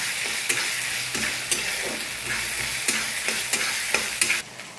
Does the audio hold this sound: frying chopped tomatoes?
yes